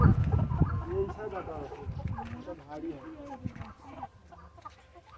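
Large domestic desi rooster clucking nearby, a run of throaty clucks and calls mixed with people talking over it outdoors.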